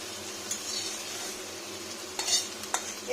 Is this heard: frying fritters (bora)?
yes